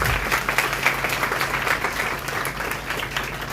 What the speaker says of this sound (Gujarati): આ આપણા માટે તાળી પાડી છે.